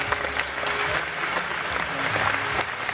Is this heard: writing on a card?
no